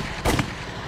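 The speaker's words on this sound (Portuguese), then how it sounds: "2 tiros são disparados." Two quick gunshots, close together and fairly loud, from a dramatized reconstruction of a serial killer on a motorcycle shooting a woman as she gets into a car in Goiânia, over steady background noise.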